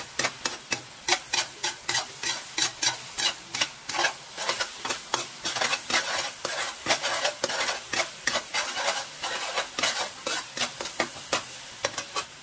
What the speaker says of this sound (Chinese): 豆瓣酱一定要炒香才会好吃